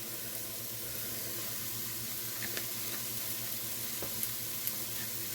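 Onions sizzle in a pan with added chili powder and cumin, a steady close frying hiss with a few soft clicks of a utensil, no one talking.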